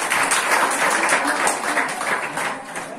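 Students clap together during a school quiz competition between groups at a public high school, a dense, continuous round of applause filling the room at moderate loudness.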